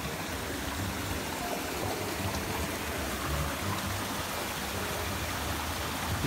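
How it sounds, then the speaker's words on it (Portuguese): A small waterfall at a natural bathing spot pours steadily, a constant close rush of flowing water with no voices over it. "Aqui tem uma quedinha de água aqui também."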